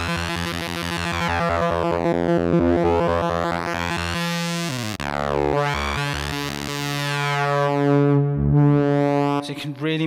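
A synthesizer with a 12 dB filter screams through a long sweeping tone, with stacked harmonics rising and falling, a pulsing rhythm in the first part, and resonant swells later, loud and alone without talk.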